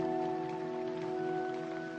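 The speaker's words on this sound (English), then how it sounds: "The rain." Steady rain falls throughout a film scene from Misery, a continuous hiss under a sustained low tonal drone, with no talking.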